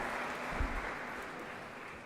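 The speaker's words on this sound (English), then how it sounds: "Please put your hands together and welcome with a round of applause." An audience at a student parliament gathering in India applauds to welcome the Vice Chancellor, giving a steady, even round of clapping that fills the hall from start to finish.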